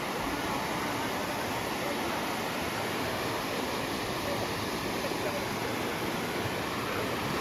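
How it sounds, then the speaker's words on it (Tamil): A constant, loud roar of rushing water that fills the whole clip without pause, from a powerful waterfall near Avalanche, Ooty, heard from nearby. "அருவியோட தண்ணி பயங்கரமாக கேட்குது."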